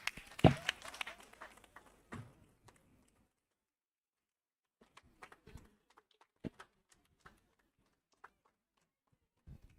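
A brief burst of audience clapping after a speech at a medical leadership gathering in Uganda, loud for about two seconds, then scattered faint claps and small noises in a mostly quiet room.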